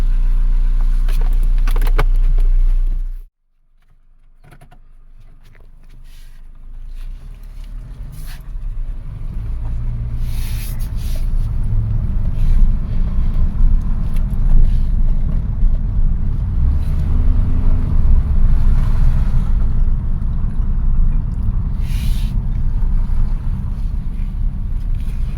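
A 2009 Honda Fit accelerates on a test drive, checked for an oxygen sensor fault: a brief cut to near silence, then a broad engine and road roar builds steadily and holds loud, with wind rush inside the cabin.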